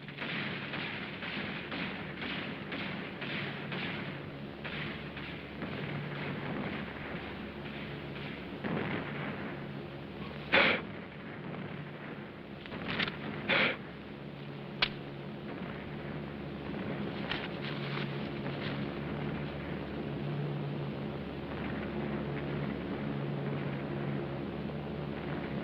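Wartime bombing raid in a 1942 film: a steady low rumble with a few sharp distant thuds and blasts scattered through the middle, fairly faint overall.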